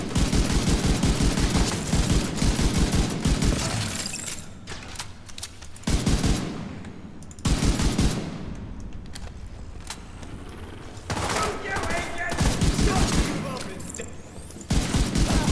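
Rapid bursts of rifle fire in The Division 2 shooter, loud and close, coming in several fast volleys separated by brief pauses, with quieter game ambience between bursts.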